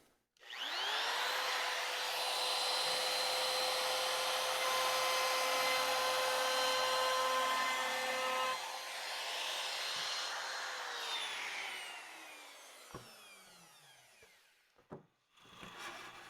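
Wood router cutting a chamfer along a wood edge: a loud, steady high-pitched whine held for about eleven seconds, then spinning down, with a few small knocks at the end.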